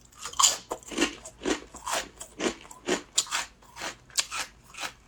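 A crunchy, lightly spicy snack coated in ground Sichuan pepper powder is bitten and chewed close up, giving a steady series of crisp crunches roughly every half second, with no talking.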